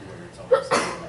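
A single short sneeze, sharp and close, with a quick two-part burst.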